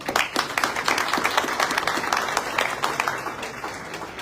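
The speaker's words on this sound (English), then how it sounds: "If we can give them another round of applause." Audience applause for students of the Awate school at a community celebration in Melbourne, dense clapping from a crowd, steady and fairly loud, slowly thinning toward the end.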